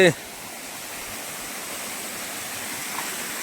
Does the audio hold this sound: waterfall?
yes